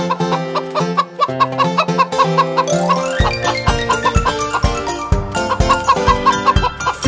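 Cartoonish hen clucks play within a bouncy children's nursery song about fat hens jumping on the bed. The clucks are short and repeated, and they ride over a rhythmic, melodic musical backing at full volume.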